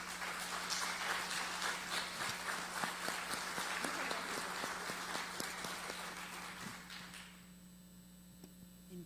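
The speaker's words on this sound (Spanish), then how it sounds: "démosle de nueva cuenta un aplauso a nuestro ponente" A lecture audience, with judges present, gives the speaker a round of clapping at a talk on federalism. Many hands clap in a dense burst, then thin out and fade to a quiet room.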